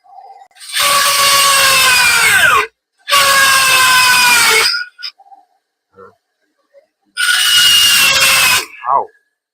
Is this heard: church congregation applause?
no